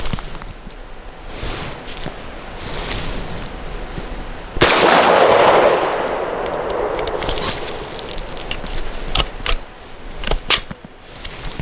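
A DBX large format handgun fired outdoors, one sharp loud report ringing into a long decaying echo, with scattered fainter clicks and pops before and after.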